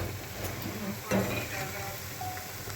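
Doi bora fritters puffing up in hot oil, a steady soft sizzle with a brief louder crackle partway through, while someone talks over the cooking.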